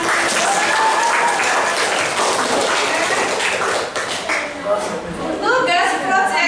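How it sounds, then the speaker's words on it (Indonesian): A classroom full of students claps, a dense burst of applause that fades briefly then picks up again, with children's voices chattering underneath. "Oke, tepuk tangan dong buat kita semua"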